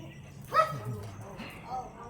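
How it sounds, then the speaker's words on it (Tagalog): Dogs bark and yip excitedly while waiting to be let out, short sharp bursts with whimpery tones close by, mixed with a person's speech. "Nag-iingay sila pagka lalabas. Gusto kasi lumabas ng mga doggies."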